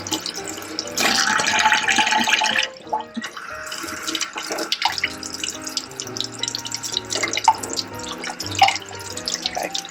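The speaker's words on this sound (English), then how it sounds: "Walk over to the sink. Just rinse it out real good." Tap water runs into a sink, rinsing out a refillable single-cup coffee filter, with splashing and dripping that shifts and surges unevenly as the filter is turned under the stream.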